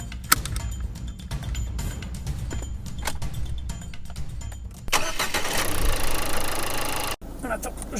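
A car engine starts up and settles into a steady idle, heard close from inside the car. Quieter cabin noises and handling come before it.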